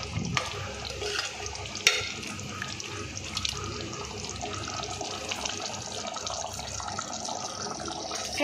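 Gongura paste being stirred into prawns in a pan, a soft ongoing sizzle with scraping and clinking of the spoon against the pan, close and fairly quiet, with a few sharper knocks.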